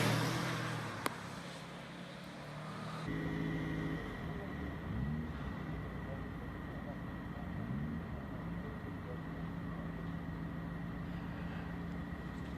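A 2002 Subaru rally car's engine hums and drones steadily at a Prescott hill-climb event, with a couple of rising revs, heard at a distance beneath continuous commentary.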